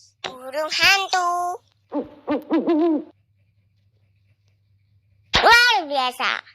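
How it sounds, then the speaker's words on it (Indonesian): A recorded owl hoots in a series of tonal calls, then falls silent before a voice speaks briefly near the end, set among a sequence of animal sounds for learning animal names. "Burung hantu."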